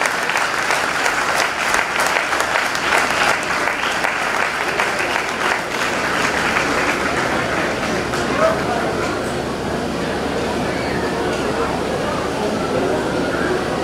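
Sustained, loud audience applause fills a public event hall in Silchar, Assam, a dense even clatter of many hands that runs for the whole stretch and eases slightly toward the end, with a voice speaking over it.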